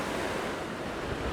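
Ocean waves wash steadily onto the shore of Jeju Island in Korea, a continuous broad rush of surf mixed with wind buffeting the microphone, with no voices.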